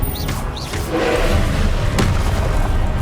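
Confringo spell blast in Hogwarts Legacy, a loud booming impact with a deep rumbling roar and a short whooshing magical tail, followed by a second thump.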